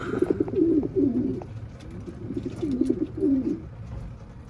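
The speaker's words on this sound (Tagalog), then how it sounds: "Yan, yung nanay ng Iron Pigeon, money winner ng Martinez Classic" Racing pigeons coo in a loft, several soft throaty coos in a row, close and moderately loud over a faint room background.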